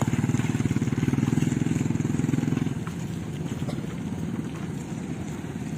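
A Honda Click scooter engine putters along a rough road in Northern Samar, a close, rhythmic pulsing chug that is louder at first, then eases into a steadier, softer drone.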